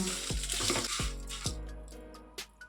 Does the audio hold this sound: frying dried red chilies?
yes